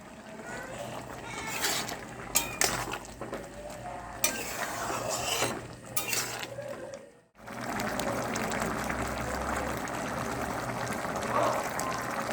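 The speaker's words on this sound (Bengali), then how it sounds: "এবার আলুগুলো একটুখানি ঘেঁটে দেবো যাতে আলুটা গ্রেভিটা একটু ঘন হয়" Boiled potatoes are mashed into a simmering chicken and chana gravy, producing wet stirring and squelching with sharp utensil knocks against the pot, a brief silent break, then steady bubbling and scraping.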